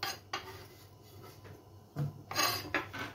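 Metal cookware clatters and scrapes in a few short bursts, a saucepan being handled and set down close by, with quiet pauses between.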